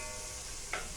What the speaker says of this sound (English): So I'm just going to move that around,